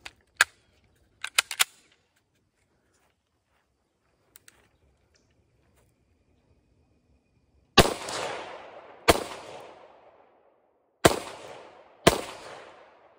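A PSA Rock pistol fires FN ammunition at a range, a few handling clicks first and then four loud, sharp shots with ringing decay, the last two close together.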